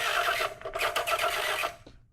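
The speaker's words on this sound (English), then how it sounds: "the only thing that you hear is the jammed money printer" A machine chatters in short mechanical bursts, a rapid stuttering whir that stops and restarts, like a jammed money printer struggling, fading out at the end.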